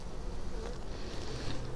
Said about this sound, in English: You'll start seeing the bees come running out of the top.